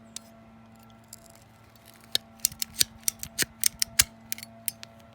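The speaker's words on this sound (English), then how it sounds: "watch how this thing ratchets" An EZ Kut ratcheting pruner cutting through a crepe myrtle limb during fall pruning, heard as a run of crisp, close clicks and snaps that speed up into a burst of ratcheting cuts, with no talking.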